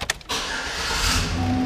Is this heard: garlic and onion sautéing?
no